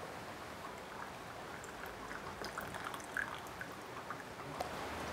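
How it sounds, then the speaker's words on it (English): Oolong tea poured from a second tea vessel into a cup, a steady close liquid trickle with faint splashy drips running the whole time, no talking. "Then you pour it from your second tea vessel into your cup"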